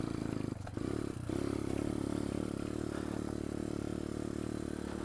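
Pit bike engine riding through woods: a steady, loud mid-pitched motor drone holding throughout, with a couple of brief dips and some clatter near the start.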